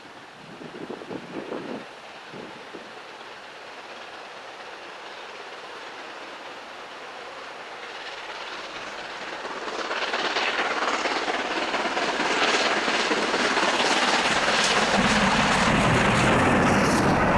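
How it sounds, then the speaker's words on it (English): Britannia Class Pacific steam locomotive 70013 Oliver Cromwell, running top and tail with a diesel, approaches and passes on a heritage line, building from a distant rumble to a loud rushing roar of wheels and carriages. "hauled by Britannia Class Pacific number 70013 Oliver Cromwell, working in top and tail with"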